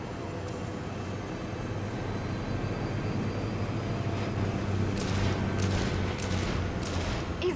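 A train in Saints Row rumbles steadily and loudly throughout, a dense low roar with rattling and faint high clanks toward the end.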